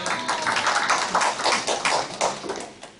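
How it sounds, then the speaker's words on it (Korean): Applause from an audience at a Christian coaching lecture for teachers at a church in Busan, dense scattered clapping filling the room for a few seconds and fading slightly at the end. "박수 주세요."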